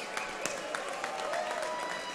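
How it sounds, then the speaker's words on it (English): Crowd at a boxing event applauding, a short burst of clapping with scattered louder claps over a dense crowd noise. "I want to tell everybody to give him a round of applause"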